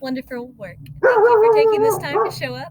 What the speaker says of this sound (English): You can hear her barking.